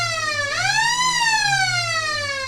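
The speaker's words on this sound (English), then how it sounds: "As the siren goes off for the right in front of us, you know you're back at the local footy" A siren wails loud and close at a local Australian football ground, sliding up in pitch and then easing slowly back down, sounding alone.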